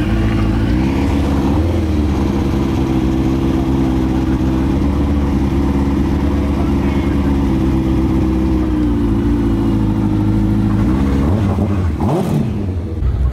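Engines of a Hayabusa motorcycle, a Mini and an Audi S3 rev loudly at close range during a trackside sound check at an action day, sustained droning with rising revs and a sharp blip near the end.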